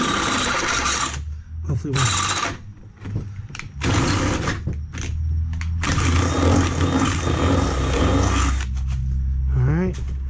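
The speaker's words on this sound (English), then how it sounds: "drill this one out." A power drill bores holes in a basketball base, whirring in bursts that start and stop, then runs in a longer steady stretch, with someone talking briefly between runs.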